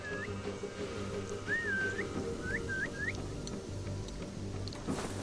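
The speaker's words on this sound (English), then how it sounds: "I guess I will try the whistle just to see how it works." A short in-game whistle from Assassin's Creed Valhalla, made of several quick rising tonal chirps over a low, steady game ambience, fairly faint and with no talking.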